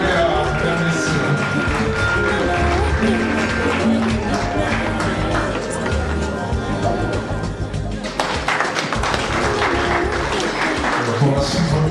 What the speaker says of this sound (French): Applaudissements pour les lauréats,